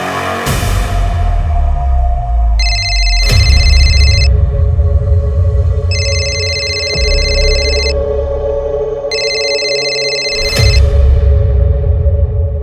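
A telephone rings with an early-morning call, sounding in three repeated electronic bursts over a low humming background, with no voices.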